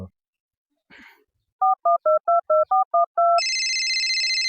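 Telephone keypad dialing: a brief rustle, then eight quick evenly spaced beeping tones, followed by a steady ringing tone, loud and close.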